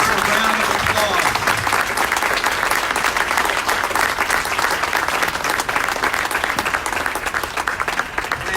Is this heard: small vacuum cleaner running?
no